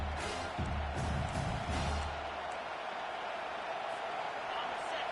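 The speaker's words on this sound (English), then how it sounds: "this crowd is tearing the lid off this place" A stadium crowd at a football game roars continuously near the two-minute warning on third down, a dense, loud wall of noise with surging peaks early on.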